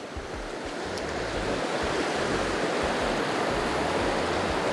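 Fast stream water rushing over rocks in a trout creek, a loud, dense, continuous roar of flowing water heard up close with no voices.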